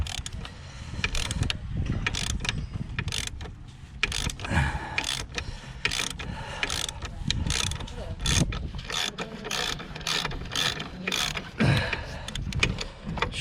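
A ratchet with a 27mm socket undoes the oil filter housing on a Citroen C4 Grand Picasso, a steady run of close clicking ratchet strokes with mechanical rubbing, repeated throughout.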